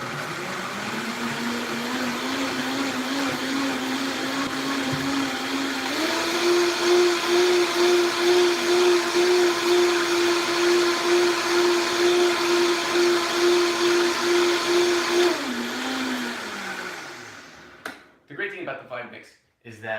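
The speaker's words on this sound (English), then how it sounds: "It will actually blend up all the particles, all the seeds and everything else that you find in the berries or in the fruit." A high-powered countertop blender whirs through berries and fruit for a smoothie, a loud steady motor drone that rises in pitch midway, holds, then winds down and stops, followed by a few brief clattering sounds.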